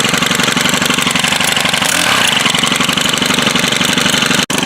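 A Stihl FS100RX string trimmer with a missing guard runs loud and close in a fast, steady buzzing drone, with a brief dip and a sharp click near the end.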